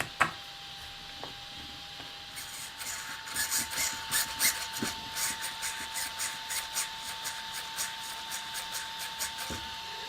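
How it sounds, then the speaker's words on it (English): A screwdriver screws down a servo arm on an aluminum mount of an Arrma Talion RC car, with close rhythmic scraping and ratcheting twists in a steady series of short strokes over a faint electronic whine, no speech. "Let me screw down the servo"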